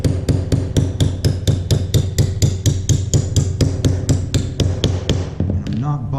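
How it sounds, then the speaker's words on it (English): A hammer taps a hinge pin into the brass bushings of a 1947-72 Chevy or GMC truck door hinge, giving a steady run of about twenty sharp, evenly spaced metallic strikes, close and loud, with no talk. "I'm just going to tap this in."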